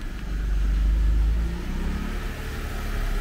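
A BMW car with a freshly replaced clutch accelerates in second gear, giving a steady, loud low engine rumble from inside the cabin with the drone slowly rising and easing over a few seconds.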